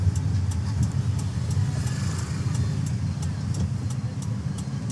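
A manual car drives through city traffic, its steady engine hum heard from inside the car under a constant roadway rumble, with a faint repeating ticking like an indicator.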